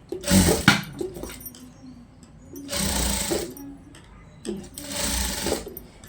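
Sewing machine running in three separate bursts while stitching a long frock, each run lasting about a second with quiet pauses between, close and fairly loud.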